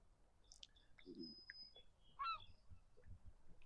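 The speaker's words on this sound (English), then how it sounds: "Got a loud seagull over there." A loud seagull calls out with harsh honking squawks, a few separate cries over quiet outdoor background with faint chirps, at a dock on Callander Bay.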